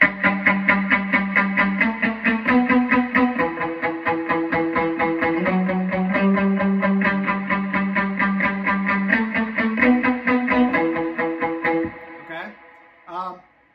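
An overdriven electric guitar chugs a steady rhythmic riff with reverb washing behind it, ending in a few scraped, fading notes.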